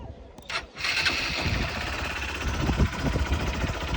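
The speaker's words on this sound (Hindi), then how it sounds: "एग्जॉस्ट नोट सुनाते हैं दोनों बाइक्स का कैसा है" Stock exhaust of a Royal Enfield Himalayan 450 or Hero Xpulse 200 4V motorcycle starts up with a short crank, then settles into a steady, close engine idle with a faint rumble.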